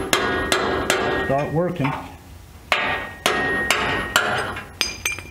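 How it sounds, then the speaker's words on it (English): A steel chisel is hammered repeatedly to pop brackets off an S10 frame, giving a series of loud, sharp metallic strikes in irregular bursts with short pauses between them. "So then you just take your chisel again,"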